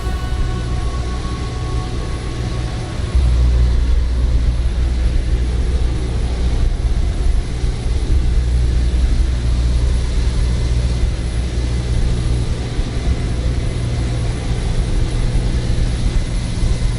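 Airliner in Microsoft Flight Simulator coming in to land, a steady loud engine roar with deep low rumble that swells after a few seconds and holds on without talk.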